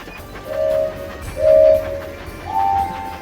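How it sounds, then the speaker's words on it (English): Cartoon-style train from a children's mobile game running along its track, with three sustained horn-like tones sounding in turn over a soft rolling hum, fairly loud and free of speech. "Swipe left or right to keep the train on the track."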